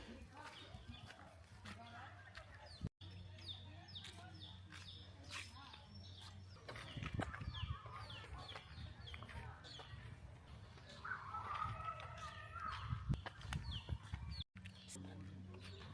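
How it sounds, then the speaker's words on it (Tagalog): A chicken clucks intermittently in a noisy outdoor scene on a hiking trail at Wa'ahila Ridge State Recreation Area, faint and somewhat distant, mixed with other birds and steady background hum. "May manok, pang tinola."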